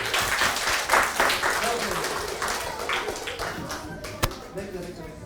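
A primary school audience of children claps for a classmate after a drama performance, uneven bursts of clapping with voices mixed in and a sharp slap-like hit near the end.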